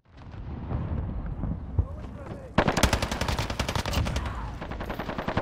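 Rapid full-auto bursts of FiNN LMG fire in a video game, loud and dense, starting partway through and continuing steadily to the end over background game noise, with a voice talking underneath.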